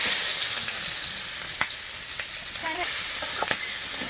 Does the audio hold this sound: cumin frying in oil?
yes